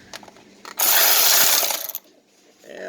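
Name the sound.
cheap tool removing a transmission bolt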